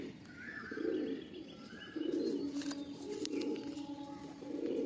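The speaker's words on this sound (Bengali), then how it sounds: "তো বন্ধুরা এই দেখুন বন্ধুরা টিক্কি লাইনের পায়রা।" A tournament racing pigeon of the tikki line coos in repeated low, throaty phrases, near and distinct, with faint chirps and light shuffling around it.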